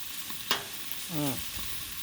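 Onions and peppers fry on a Blackstone griddle in a steady, close sizzle, broken by a sharp clack and a brief squeaky scrape partway through.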